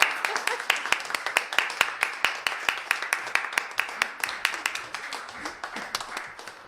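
An audience claps steadily for performers at a Valentine's Day concert, dense sharp hand claps close and loud, with a voice talking over the applause.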